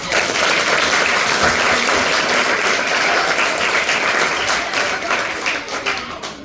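Loud, dense applause fills a school hall as students and staff clap for their teachers and management, a thick sustained roar of hands that eases slightly toward the end.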